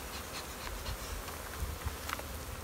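Honeybees buzz around queen-rearing hives, a faint continuous droning hum with scattered individual bees passing close and drifting away.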